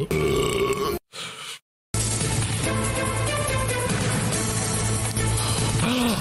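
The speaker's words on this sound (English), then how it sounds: "I will never burp ever again in my entire life." A loud, drawn-out burp lands over a dense, continuous backdrop of music and sound, broken by a brief drop-out, with a grunt-like vocal quality.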